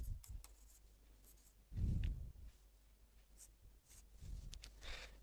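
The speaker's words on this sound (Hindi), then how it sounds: "तो यहाँ पे लिख दे रहा हूँ" A pen scratches on paper during a Class 12 physics lesson on electric field, giving faint, quiet strokes with a few brief louder scribbles and long near-silent gaps.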